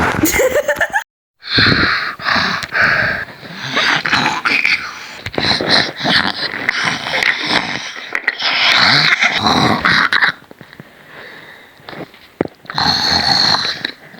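Loud, close snoring comes in repeated rough, rattling snorts with short gaps between them, and voices talk around it.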